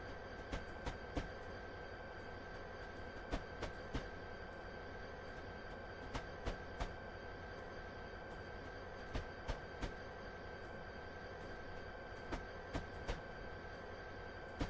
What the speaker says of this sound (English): Not about the train I'm driving, which was my downfall.